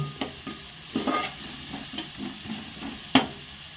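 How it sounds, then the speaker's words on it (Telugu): A spoon stirs turmeric through fish curry in a hot pan, giving a series of soft scrapes and knocks over a low sizzle, with one sharper clack near the end. "పసుపు వేసి కొంచెం కలపాలి"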